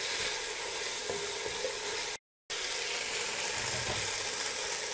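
Puszta stew sears and reduces in a cast-iron Dutch oven, giving a steady, close, broadband sizzle that runs throughout, broken once by a brief total dropout near the middle, with a faint stirring scrape.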